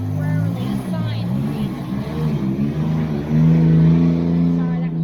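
A car driving past outside, its engine note rising and shifting as it goes by, fairly loud, with a person talking over it.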